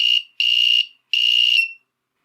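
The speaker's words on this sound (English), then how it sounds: "we can hear the buzzer go off" A small buzzer in an electronics test circuit sounds three times, each shrill, steady tone lasting under half a second with short silent gaps between, loud and close.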